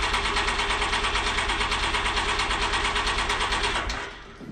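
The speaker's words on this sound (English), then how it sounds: "we're gonna push the throttle all the way to the floorboard" Can-Am Maverick X3 engine held at full throttle, a loud steady high-rev roar with a fast pulsing rhythm that drops off sharply near the end as the throttle is released.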